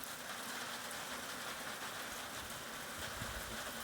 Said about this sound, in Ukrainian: дуже-дуже цікава злива.